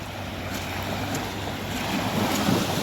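Calm sea with small waves off the Kerala coast during cast-net fishing, a steady broad wash of gentle surf with faint wind, continuous and fairly loud with no talk.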